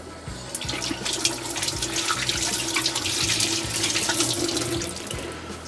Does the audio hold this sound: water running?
yes